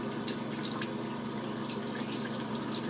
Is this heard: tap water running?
yes